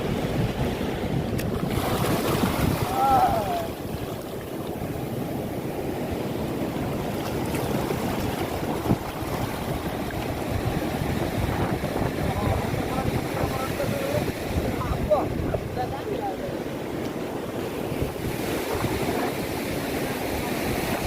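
Strong wind buffets the microphone at the seashore with waves and surf rolling steadily underneath, a loud continuous roar throughout with a few faint tonal bits in the middle.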